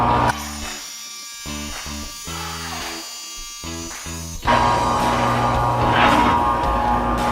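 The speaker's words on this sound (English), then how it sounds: "I'm going to turn on the tile saw. It's going to be loud, and you just want to go slow." An electric tile saw cuts bathroom floor tiles. A close, steady motor whine dips briefly a few times, then turns into a louder, harsher grinding as the blade bites into the tile. No voices are heard.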